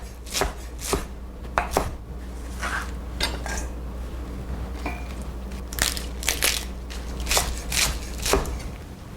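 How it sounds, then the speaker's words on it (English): A knife chops through a bunched pile of raw kale leaves on a cutting board, giving a run of sharp, close, fairly loud thuds in an uneven rhythm with no speech. "we're going to take a small pile of leaves, bunch it up together, and just give it a rough chop."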